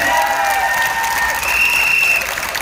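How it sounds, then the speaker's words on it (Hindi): An indoor crowd gives a burst of loud, continuous applause for Azhar bhai, a dense wash of clapping with a faint tone ringing through it. "अजहर भाई के लिए एक बार जोरदार तालियां"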